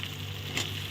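Whole garlic cloves and whole tomatoes drop into mutton curry masala frying in a pan. A short, close sizzle swells into a brief burst of louder hissing.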